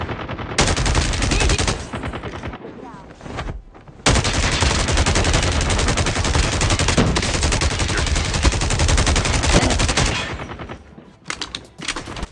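Rapid automatic gunfire from an AK-117 assault rifle in Call of Duty Mobile battle royale: long, loud, continuous bursts with a short pause between them, ending in a few scattered shots.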